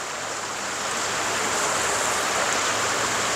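Water of the Mae Kha canal in Chiang Mai, fed by mountain streams from Doi Suthep, rushes in a constant, loud, close broadband flow with no voices.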